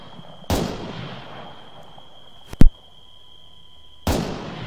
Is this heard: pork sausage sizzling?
no